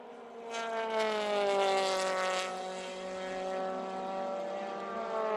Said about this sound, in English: The engine sounding beautifully crisp on Sandy Stuvik's car